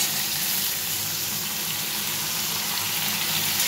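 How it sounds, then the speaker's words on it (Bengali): Elephant foot yam frying with potatoes in hot oil produces a loud, dense, continuous sizzle heard up close and alone, with no talking. "ওলটা ভাজা হবে, একটু ভালো মতোই ভাজা হবে"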